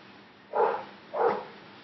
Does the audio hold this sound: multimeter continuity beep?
no